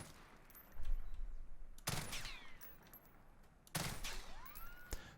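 Two distinct three-round bursts from the FR 556 burst rifle in Warzone, each a tight, sharp volley cracking close and loud, the second arriving a couple of seconds after the first, with faint ringing tails between.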